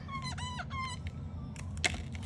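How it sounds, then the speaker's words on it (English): A marker squeaks against acetate in several quick, high-pitched strokes, close and clear, with no talking over it. "Pardon my squeaky marker there."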